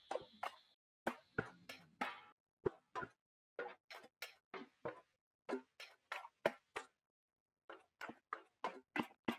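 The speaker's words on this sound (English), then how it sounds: "I grabbed this percussion loop in from Ain Sounds" A sampled percussion loop plays dry, short, woody clicks and knocks in a steady chopped rhythm, isolated with silence between hits and a short gap near the end.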